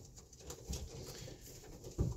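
Pigeons in a breeder's loft coo softly in a few low, throaty bursts, fairly close, with light rustling and background murmur and no speech.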